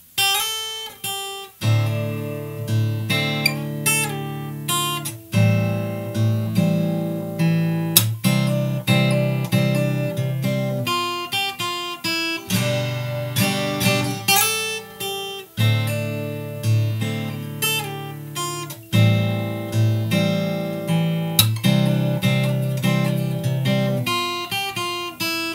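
An acoustic guitar plays a song's pre-chorus fingerstyle, alone and close, with plucked melody notes over a bass line in a steady rhythm and no voice.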